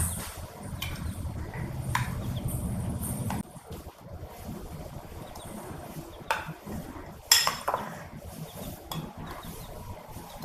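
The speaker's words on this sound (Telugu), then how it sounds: "ఇప్పుడు ఇవన్నీ మిక్స్ చేసుకోవాలి." A spoon mixing egg snack batter with fresh ginger garlic paste and coriander powder in a bowl, making scattered clinks and soft scrapes close by with quiet gaps between them.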